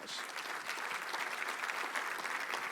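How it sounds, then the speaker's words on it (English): A hall audience at the 2026 Rock Island State of the City address gives a full round of applause, a thick and continuous roar of clapping at even strength for nearly three seconds. "give them a round of applause"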